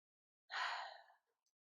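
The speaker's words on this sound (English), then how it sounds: "take a full breath in here" Full breath drawn in during a yoga twist, a single soft airy inhale lasting under a second in an otherwise quiet room.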